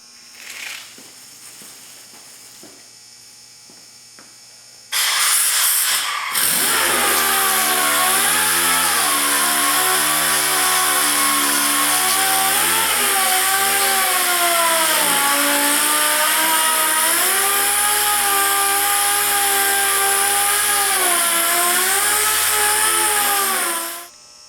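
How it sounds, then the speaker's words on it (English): A power sander starts up after a quiet stretch and runs loudly and steadily on the bumper of a 2003 Polaris Ranger 500 6x6, its whine rising and dipping slightly as pressure changes, then stops. "So I'm going to get to sanding on this thing, and then get it ready to paint."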